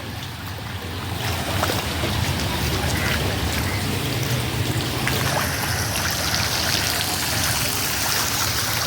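Heavy monsoon-style downpour with a dense, unbroken roar of water, loud and steady throughout, like rain pouring onto surfaces and running water nearby, with no voices.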